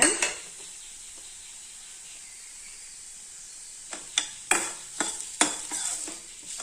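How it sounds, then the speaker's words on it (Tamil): Onions and grated coconut sautéing in a pan for corn sundal: a steady close sizzle, then a run of sharp spoon scrapes and stirring clatters against the pan near the end. "இதையும் நல்லா வதக்கிக்கலாங்க."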